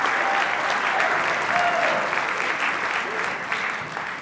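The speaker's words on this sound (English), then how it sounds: "about another round of applause for Mark Betcher?" Audience applause at a school district jazz showcase, a sustained burst of many hands clapping that fades slightly toward the end.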